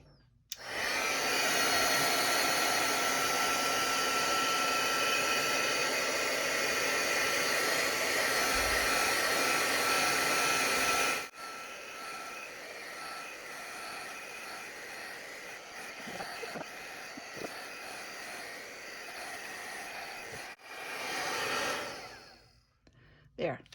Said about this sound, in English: I'm going to use my heat gun and see if I can't speed up the process a little bit